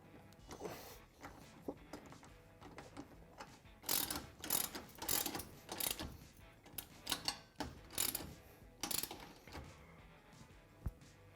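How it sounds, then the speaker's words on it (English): A wrench tightens bolts on a Honda Pioneer 1000-5 UTV during a Tusk upgrade kit install, giving quiet bursts of ratcheting clicks and metallic handling in irregular spurts. "you can tighten it by hand before you put a wrench on it"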